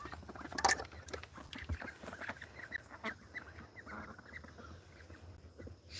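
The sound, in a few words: ducks coming out in the morning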